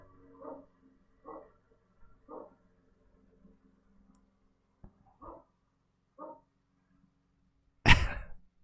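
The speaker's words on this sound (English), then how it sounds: "So the dog is barking." A dog barks in short separate bursts, about six spaced-out woofs at moderate volume over a quiet background, with a sharper louder thump near the end.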